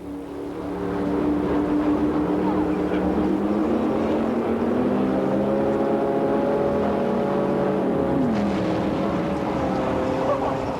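Drag-racing cars tearing down a quarter-mile straight produce a loud, continuous engine roar whose layered tones rise and shift in pitch throughout, with no voices.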